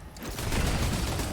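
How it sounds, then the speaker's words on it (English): Dense explosions and rapid gunfire in the Fortnite video game, a continuous loud roar of blasts and shots layered together with no pauses, close and chaotic. "you can't see anything with all these explosions"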